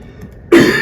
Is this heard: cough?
yes